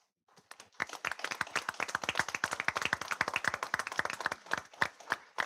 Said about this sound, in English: it'd be good for all of us just to applaud all of them here